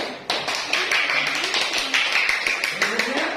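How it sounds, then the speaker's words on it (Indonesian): A school class claps their hands in a quick, uneven burst of many overlapping claps, fairly close and lasting a few seconds. "Baik, tepuk tangan."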